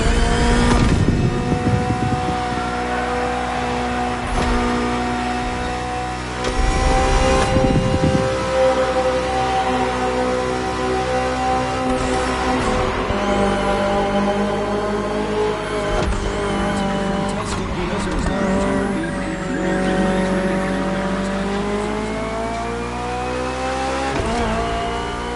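BMW M Hybrid V8 endurance prototype race car in a video game, a loud, continuous engine roar that rises and drops through gear changes and revs, with occasional tire squeal.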